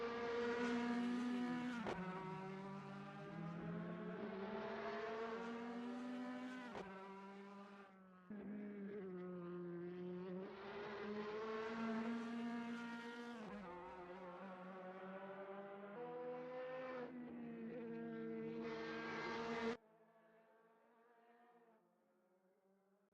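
A DTM race car roars through a chicane in a racing simulator, its engine note rising and falling through gear changes over about twenty seconds before dropping to a quieter idle-like hum.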